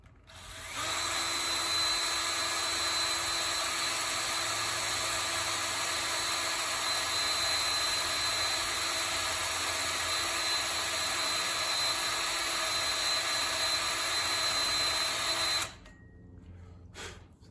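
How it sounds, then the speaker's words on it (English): A power drill makes a center mark on a metal workpiece while building a homemade ATV. It gives a loud, steady whine held for about fifteen seconds before cutting off, then a quieter hum trails at the end. "Now we'll make a definite mark with the drill"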